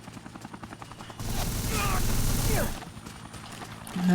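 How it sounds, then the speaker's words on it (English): Helicopter attacking in the video game Dead Rising, a loud burst of rotor roar and gunfire-like rattling swelling up for about a second and a half over game noise, then falling back to a quieter rhythmic background. "The helicopter is just going to try and take us out"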